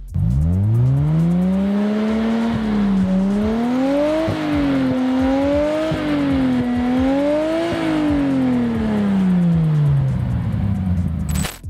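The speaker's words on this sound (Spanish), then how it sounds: "pero stock por stock, el sonido del RB" A Nissan Skyline R34's RB25 engine is revved up from low, held through several rising and falling swells, then eases back down, loud and close with a smooth harmonic tone.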